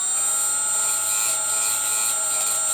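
Light, steady scraping and sanding on the soft aluminum intake manifold surface of a 2000-2007 Ford Taurus 3.0L V6, a continuous hissy abrasive rasp held close with even gentle pressure and no pauses.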